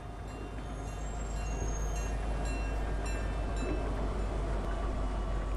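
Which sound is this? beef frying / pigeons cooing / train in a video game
train in a video game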